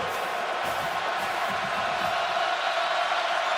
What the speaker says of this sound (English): And here comes the war chant.